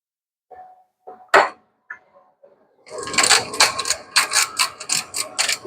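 Salt and pepper ground over eggs in a skillet, a series of rhythmic gritty grinding twists, close and fairly loud, following a few brief clicks and knocks.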